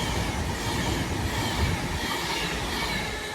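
An Avanti West Coast train on the London Euston to Manchester Piccadilly service rushes through Kidsgrove station, a loud, close, continuous roar of wheels and rails with a rattling clatter.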